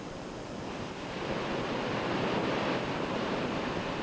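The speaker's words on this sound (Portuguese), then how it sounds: "Olha só o tamanho da cachoeira." A huge waterfall in the Brazilian wilderness, over 50 metres high and 100 metres wide, thunders in a steady, dense roar that swells slightly after the first second and stays loud and unbroken.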